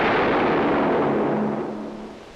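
A single loud, booming gunshot from a crime film rolls out in a broad blast and then fades slowly over about two seconds, with no voices over it.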